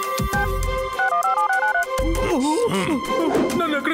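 A cartoon telephone rings with a bright electronic melodic ringtone in two short bursts, followed by an animated voice talking over the busy soundtrack.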